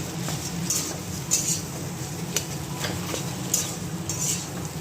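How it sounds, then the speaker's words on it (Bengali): Potato paratha filling sautéing in a pan, a steady low sizzle with a spoon scraping and clinking against the metal at intervals, close up with no talk. "এটা ভালো করে কষিয়ে নেব"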